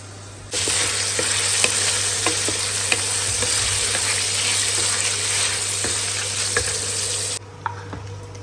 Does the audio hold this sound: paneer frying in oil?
yes